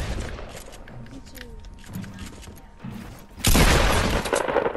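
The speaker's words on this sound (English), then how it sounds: "I'm getting shot from up top." Gunfire aimed at the player in Fortnite, a dense burst of loud shots erupting after a quieter stretch of game noise and continuing to the end.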